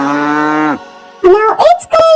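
A cow moos loudly and close, one long steady low call followed by a shorter series of rising, wavering moos, with no other sounds around it.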